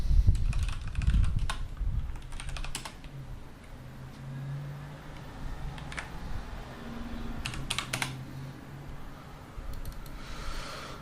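Keys clatter on a computer keyboard in short irregular bursts of fairly faint clicks over a low steady hum, with no other sound.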